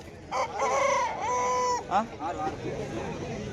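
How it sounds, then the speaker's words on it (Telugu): A large rooster, over four kilograms, crows loudly nearby at a poultry market, a long drawn-out call followed by shorter clucking notes, with soft voices in the background. "ఇక్కడ కనిపిస్తున్న కాకినేమిల పుంజు"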